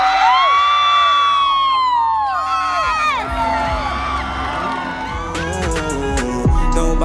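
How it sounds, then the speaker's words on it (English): A crowd cheers and whoops for a marriage proposal at an outdoor water lantern event, loud and close, with bright overlapping shouts sliding in pitch over a general roar, some children's voices among them. "everybody's just cheering"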